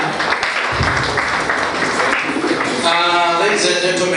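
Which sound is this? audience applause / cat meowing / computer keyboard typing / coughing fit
audience applause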